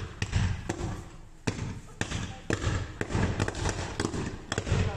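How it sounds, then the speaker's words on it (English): Electrical transformer exploding, a run of sharp cracking bangs and pops at irregular intervals, loud against a rough crackling background. "Exploding transformer,"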